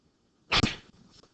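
A single short sneeze bursts out once, fairly close and isolated against a quiet classroom background.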